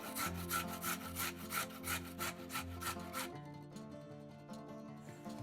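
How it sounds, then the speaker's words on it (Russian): A carrot is rubbed over a coarse grater in quick, rhythmic rasping strokes, close and fairly quiet, which stop partway through and leave faint background sound. "Одну морковь трем на крупной терке."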